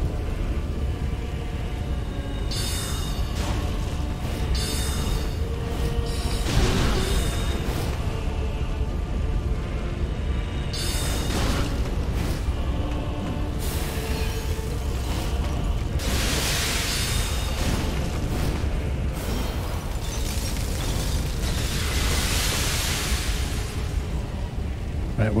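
A boss's big explosion attack in Dark Souls 3 bursts out as repeated loud booming blasts over a constant deep rumble, with no talking.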